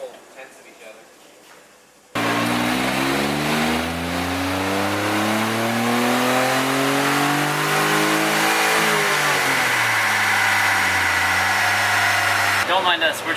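A Smart car with an exhaust modification revs hard on a dyno, its engine pitch climbing steadily through a long loud pull, then dropping back toward idle near the end.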